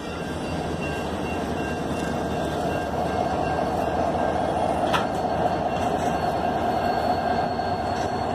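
Canadian National 8879 freight train passing through Effingham, Illinois: a steady, loud rumble of rolling railcars fills the whole stretch, with faint wheel squeal above it and no voices.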